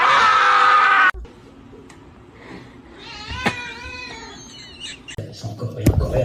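A male cat yowls and caterwauls in a household scuffle, with a loud harsh burst at the start followed by wavering higher cries and scattered noises.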